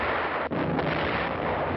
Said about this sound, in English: Our own artillery was brought to fall within 100 yards of our front-line elements.